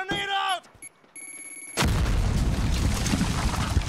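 A grenade blast from the video game Modern Warfare goes off as a sudden loud boom, then a sustained roar of rumbling noise, following brief electronic game tones.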